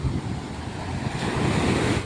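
Strong sea waves crash on Seethapalem beach in cool, windy weather: a continuous, loud surf roar with swelling surges and wind buffeting the microphone, with no voices.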